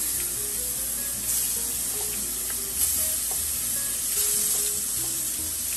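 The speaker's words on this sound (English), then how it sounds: "And now we're going to put our shrimp in like so." Shrimp hitting a hot pan with cooking left in the bottom, a loud steady sizzle of frying close up, continuous and hissing, with occasional stirring clicks and no talking.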